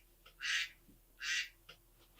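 Two loud, nasal duck quacks ring out close and alone, evenly spaced with a short pause, followed by a couple of fainter clicks.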